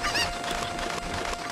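Chickens in Ocarina of Time, a short burst of squawking, honking fowl calls, close and fairly loud, with no one talking.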